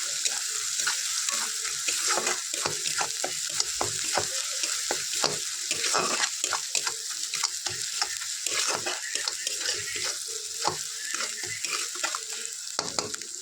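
Green chillies and spices sizzle steadily in a hot pan for a Bengali doi katla fish dish, with frequent close scraping stirs over a continuous frying hiss and no talk.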